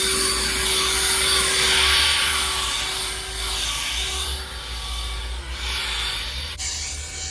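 A leaf blower clearing roofing debris off a flat residential roof in Portland, Oregon, gives a loud, continuous broadband roar with a steady motor whine, rising and easing slightly as it sweeps, then cutting off sharply near the end.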